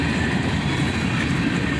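A freight train rolls past with a Procore cylindrical covered hopper car, a steady, loud, continuous rumble of wheels on rail throughout, close by and without any voices.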